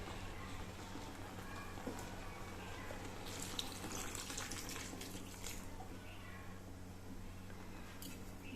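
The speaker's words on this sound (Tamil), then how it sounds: "இப்போ ஒரு 2 கிளாஸ் அளவுக்கு தண்ணி சேர்த்துட்டு" Water poured from a glass into a cooking pot of vegetables for a Tamil vegetarian thalicha curry, a soft rushing splash swelling midway and then easing off over a steady low background hum.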